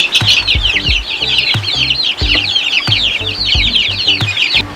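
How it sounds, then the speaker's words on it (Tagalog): Native chickens and chicks in a large coop make a close, loud chorus: hens cluck in repeated low bursts while chicks keep up constant high peeping. "ayan yung mga sisiw natin, sinisimulan na natin pakawalan dito sa area dito sa kulungan na malaki"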